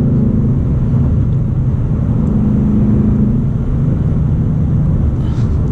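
A manual 2019 Ford Mustang GT V8 roars under a full-throttle pull, a loud, close, sustained low rumble that holds steady and heavy from start to finish.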